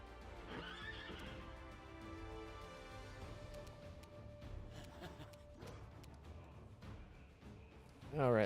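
A horse in Pathfinder: Wrath of the Righteous whinnies near the start, with hoof clip-clops and faint game sounds following, ending in a louder burst.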